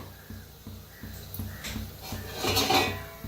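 Fried chakli come out of hot oil onto a plate with a rapid, rhythmic series of light metallic clinks and taps from the utensil, close and moderately loud. A brief sizzling rustle builds near the end.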